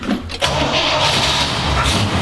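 A vehicle with a stock exhaust cranks briefly and then catches, its engine settling into a loud, steady running rumble close by.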